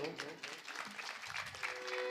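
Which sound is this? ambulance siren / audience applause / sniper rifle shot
audience applause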